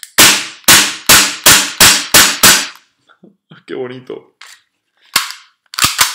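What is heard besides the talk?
Tokyo Marui USP Compact airsoft gas pistol firing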